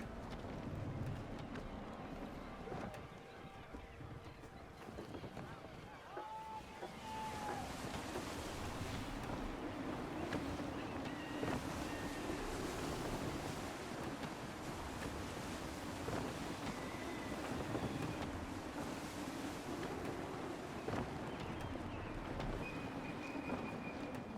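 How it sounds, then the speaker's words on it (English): Sailing in Assassin's Creed III, with gusty wind and ocean waves washing steadily around a ship for a long stretch, a constant rushing roar joined by occasional creaks and faint tones. "Gusty winds can be difficult to manage."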